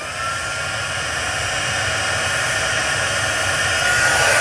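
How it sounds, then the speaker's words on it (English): A heat tool for embossing runs with a steady, loud blowing hiss that holds constant and swells slightly toward the end, heard close with no talking. "You're going to hear my heat tool. I'm going to turn it on and let it heat up."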